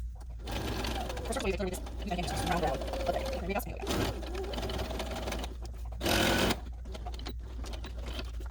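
A sewing machine stitches fabric for a homemade Boo costume from Monsters, Inc., running in close steady bursts with short pauses and one louder run near the end, while a voice talks quietly underneath.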